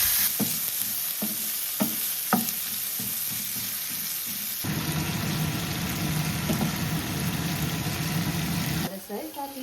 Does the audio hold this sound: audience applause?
no